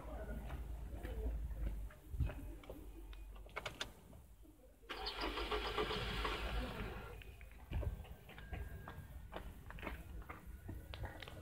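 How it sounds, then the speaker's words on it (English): Toyota 1AZ-FSE engine being cranked by the starter, a churning mechanical burst in the middle with steady rumble around it, while a pigeon coos in the background. "So I'm going to crank the engine now."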